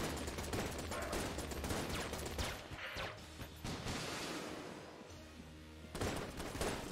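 Dense rapid gunfire from a gun that fires guns in Enter the Gungeon, continuous rattling bursts with mechanical clatter and brief pauses, loud throughout with no talking.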